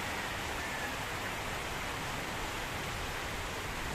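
Heavy rain pouring down during a flood at homes, a dense, steady hiss of downpour with no breaks and no voices.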